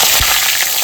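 Washed bay leaves hit hot oil in a kadai as a tempering for mutton curry, giving a loud, close, continuous sputtering hiss for under a second, with no voices.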